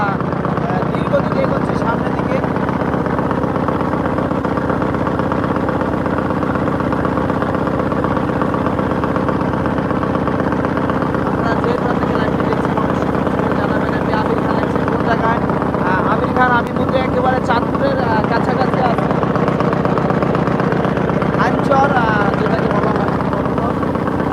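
A cargo trawler's engine drones steadily and loudly throughout, a continuous low mechanical rumble heard from aboard a moving launch, with no pauses.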